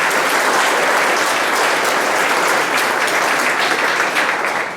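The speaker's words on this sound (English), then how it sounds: "So a quick round of applause for them" Loud, dense applause from a track and field awards audience, a steady continuous wash of clapping with no voices over it.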